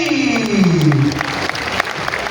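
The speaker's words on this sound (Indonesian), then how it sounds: "Boleh kita berikan tepuk tangan juga untuk Bapak Profesor Dr. Eng Yudi Dharma, SSI, MSI" Audience applause at a university ceremony, brisk clapping with scattered sharp claps, overlaid at first by a loud falling tonal sweep that fades within a second.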